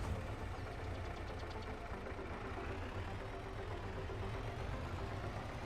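A Ford FW60 tractor engine in Farming Simulator 22 runs at a steady idle, a continuous low droning rumble with no pauses and no voices.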